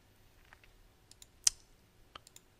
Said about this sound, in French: je peux cliquer à droite dans cette fenêtre et cliquer sur Imprimer